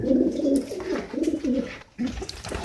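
Blue checker pigeons in a loft give several low, rolling coos in quick succession, close and clear, with a brief break before a final coo.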